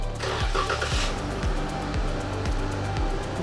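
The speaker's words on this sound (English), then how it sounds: "The vehicle should start shortly." A 2011-2017 Dodge Charger fires up via remote start, a close engine crank catching into a settling idle with a brief rise in revs, alone without talk.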